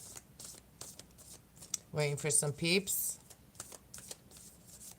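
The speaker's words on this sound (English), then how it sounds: "I'm just shuffling for a minute to see if people are gonna come in." Tarot cards are shuffled in quick, soft riffling bursts, close by, with a person talking briefly in the middle.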